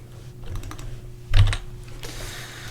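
Keys tapped on a computer keyboard, a few quick clicks followed by a sharper, louder keystroke burst in the middle, then quiet room tone; close and fairly soft.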